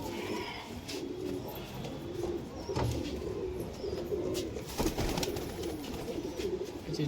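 A pair of pigeons cooing as they are released, soft repeated coos over a quiet outdoor background, with some flutter and handling noise.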